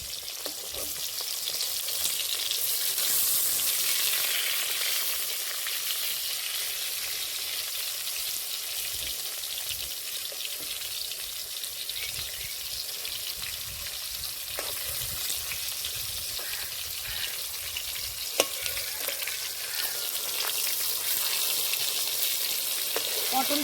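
Pointed gourd (potol) fries in hot oil in a wok as the pieces are turned, a continuous close sizzle broken by scraping stirs and a few sharp clicks.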